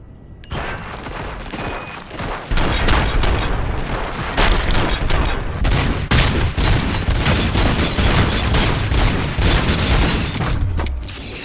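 Heavy gunfire in RoboCop: Rogue City, a loud relentless barrage of rapid shots and booming impacts with mechanical clatter, continuing for several seconds in a close, dense wall of sound.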